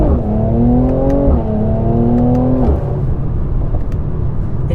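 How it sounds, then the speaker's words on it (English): A facelift Mercedes C43 AMG in Sport Plus mode is floored from inside the cabin, its engine note climbing loudly through two quick upshifts before easing into a steady cruising drone. "First, let's floor it."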